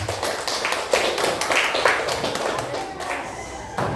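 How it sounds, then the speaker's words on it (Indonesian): Audience applause greeting a presenting group in a classroom-style session, steady close clapping lasting throughout with scattered taps and a brief background voice. "Berikan aplaus untuk kelompok mulut"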